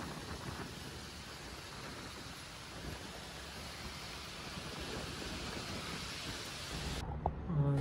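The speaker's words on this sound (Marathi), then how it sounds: "आणि पाऊस परत चालू झालाय." Steady rain falls outdoors as a dense, even wash of noise, with low rumbling that may be distant thunder, before the sound cuts off abruptly near the end.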